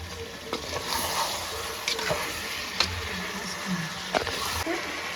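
Chicken being stirred and fried with onion and ginger-garlic paste for Chettinad chicken, a steady soft sizzle with scraping spoon strokes against the pan at irregular intervals, close and moderately loud.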